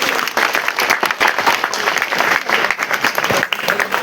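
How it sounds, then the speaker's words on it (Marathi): A crowd claps in steady, dense applause at a welcome during a Govinda troupe's T-shirt launch event, close and continuous with no talk over it. "त्यांचे हार्दिक स्वागत जोरदार टाळ्या झाल्या पाहिजे."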